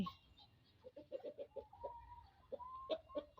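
Chickens cluck close by in a rapid series of short, nasal calls with a few longer drawn notes, with no talk over them.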